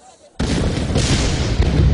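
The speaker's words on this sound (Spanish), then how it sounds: "Las explosiones estremecen la ciudad." Explosions and artillery fire shake a city during the Tet Offensive in Vietnam war footage, a sudden loud blast followed by a sustained rumbling roar of detonations.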